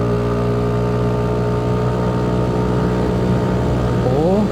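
A Kymco G7 scooter engine at half throttle on a mountain road, a loud steady close droning hum that holds level, then climbs in pitch as revs rise at the end.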